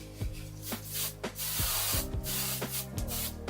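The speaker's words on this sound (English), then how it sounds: "I'm going to use the Joico hairspray." Joico hairspray is sprayed onto hair in several quick, close hissing bursts, each a short sharp spray repeated at a rough rhythm, loud against a steady background hum.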